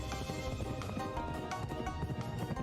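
Horse hooves gallop in the video game Pumpkin Jack, a steady fast rhythm of clip-clop beats over layered game music, with quiet background sound throughout and no voices.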